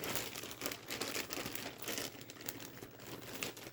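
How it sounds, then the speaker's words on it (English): Plastic bag holding yarn skeins crinkles steadily and close, a continuous rustle with soft crackles throughout, no talk over it. "And I know I'm crinkling the bag"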